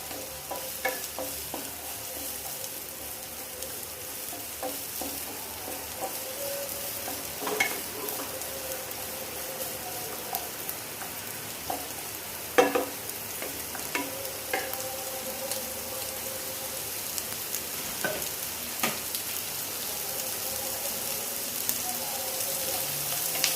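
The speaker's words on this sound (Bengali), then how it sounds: "তবু আমরা একটু পেঁয়াজটা ভেজে নেব।" Onion frying in a pan of oil for chilli soya, a steady close sizzle with intermittent scraping stir strokes and small pops throughout, no voices.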